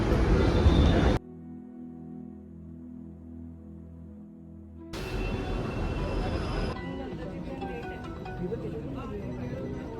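A Mumbai Metro train's low rumble and hum fill the car, with talk over it at the start and end and a louder passage later on.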